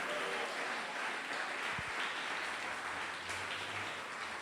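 A church congregation claps during a service, a soft, even wash of applause lasting a few seconds, heard at a distance and fairly quiet, with a faint low hum beneath it.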